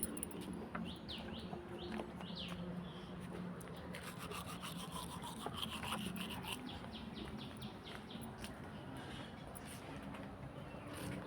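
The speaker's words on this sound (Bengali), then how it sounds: "ব্রাশ করছি দেখতেই পাচ্ছেন" Quiet, steady scrubbing of a toothbrush against teeth, repeated back-and-forth strokes heard close up outdoors, with faint bird chirps in the background.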